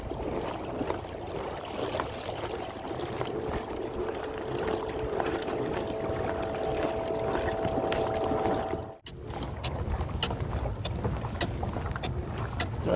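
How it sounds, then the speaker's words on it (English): A motorboat approaches across a channel toward a pedal kayak fishing for lingcod and rockfish, its engine a steady low drone under wind noise. A brief dropout cuts the sound near the end. "Got a boat coming in at me."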